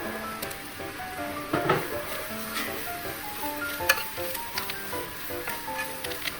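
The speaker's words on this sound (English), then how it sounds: "Add chopped curry leaves now." Chopped curry leaves sizzle in a pan with turmeric, a steady close crackle and hiss with occasional sharper pops and stirring scrapes, no voices.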